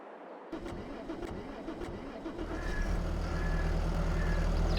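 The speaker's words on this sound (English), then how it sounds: "if I try and start the engine" A heavily damaged, worn tractor in Farming Simulator 22 cranks with several sharp starter bursts, struggles, then catches and settles into a rising, steady engine idle that grows louder toward the end.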